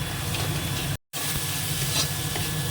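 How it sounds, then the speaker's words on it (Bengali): Masala of turmeric, salt and a little sugar sautéing in a pan: close, loud hissing sizzle that cuts out for a split second, then resumes with light stirring scrapes. "এবার মশলাটাকে ভালো করে আগে কষিয়ে নিই"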